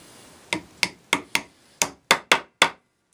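A glued wooden dowel being hammered into place on a workbench for a T-handle auger, eight sharp, close wooden strikes in an uneven rhythm, each ringing briefly, with no talk.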